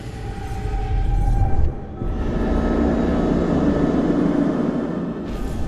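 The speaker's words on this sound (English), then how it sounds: "It's a rescue helicopter." A rescue helicopter in the horror game Man of Medan drones steadily in a loud, continuous rumble that briefly dips before resuming, with no talk over it.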